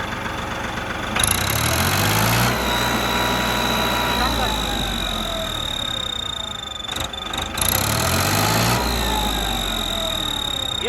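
Farmtrac 45 tractor engine revving in repeated bursts over a steady idle, with a sustained high turbo whistle rising and falling with each rev; close and loud, with voices talking over it.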